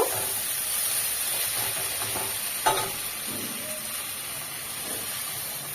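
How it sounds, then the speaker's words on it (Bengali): Water hits a hot pan of spiced ridge gourd, giving a soft, continuous sizzle and hiss with faint stirring scrapes and one brief clatter midway. "ঝিঙের সাথে মশলা কষানো হয়ে গেছে, আমি এবার একটু জল দিয়ে দেব।"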